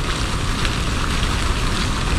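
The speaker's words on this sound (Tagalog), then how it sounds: "Water feature decorative." Decorative water feature on a Vancouver street, steady dense splashing and rushing water heard close and continuous, with no talk over it.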